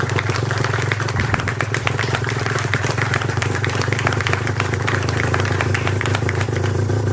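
Aprilia RS125 with a Rotax two-stroke engine running after start-up during a heat cycle, a loud continuous buzzy idle with rapid crackling exhaust pulses, close up and steady throughout.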